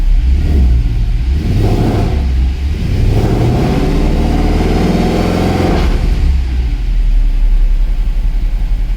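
Mercedes C63 AMG with its M156 V8 engine, loud and close, revving with rising and falling surges before settling into a deep, steady idle with no talk.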